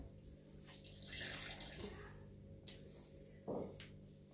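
Water gushing from a pipe onto a floor indoors, a faint rushing and splashing with a brief louder splash near the end, heard over a low background hum.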